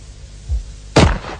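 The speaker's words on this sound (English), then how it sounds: "You can shoot the gun behind your back." A Benelli shotgun fires a single loud, sharp report, fired from behind the shooter's back, preceded by a quieter low thump.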